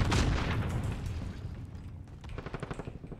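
Explosion in the Modern Warfare game, a loud booming blast at the start that rumbles and decays, followed by a run of rapid rhythmic bursts like gunfire toward the end.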